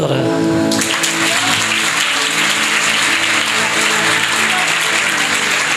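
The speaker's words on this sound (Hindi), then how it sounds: "जब आप तालियां बजाते हैं ना, तालियां बजाते हैं यीशु के लिए" Church congregation clapping in worship, a dense, loud burst of hand claps that swells in after a second and holds steady over musical tones and voices.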